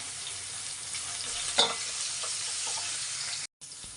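Ginger and tempering spices spluttering and sizzling in hot oil in a pan while cooking onion gojju, a loud continuous frying hiss with a brief stir clatter and sharp pops.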